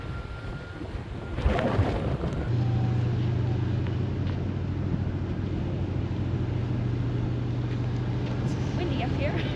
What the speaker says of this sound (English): Windy up here. It's a little windy.